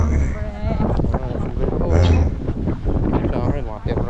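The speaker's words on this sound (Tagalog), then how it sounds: "Medyo lumakas yung hangin eh." Strong wind buffets the microphone in a steady, rumbling roar throughout, with faint voices mixed underneath.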